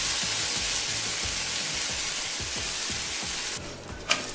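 Whole wheat dosa sizzles steadily on a hot tawa, a loud continuous frying hiss that runs alone, ending with a brief scrape or clink near the end.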